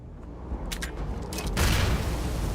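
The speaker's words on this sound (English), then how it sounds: "Well, I guess it just instantly explodes." A grenade goes off in Starfield, a few sharp metallic clicks followed by a heavy, rumbling blast that swells and lingers as a loud, close roar with no talk over it.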